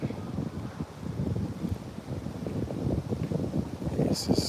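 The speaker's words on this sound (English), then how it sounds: "It's getting kind of windy now" Outdoor wind rumbles and buffets against the microphone in uneven low gusts, steady and moderately loud, with a brief faint high-pitched sound near the end.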